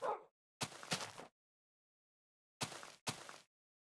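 A dog barks in short bursts, about four separate yips and woofs spread across a few seconds with silent gaps between them, fairly close and alone.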